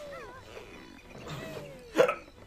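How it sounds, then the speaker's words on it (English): A person lets out a combined burp and hiccup, a short gulping vocal sound that ends in one sharp louder catch. "I just had to burp. Hiccup thing."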